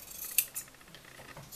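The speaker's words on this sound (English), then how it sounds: "We'll be cutting right over there. Straight across. And then you'll cut off this excess." Scissors snipping through a shirt, a couple of short crisp metallic cuts close by, quiet and brief, no talking.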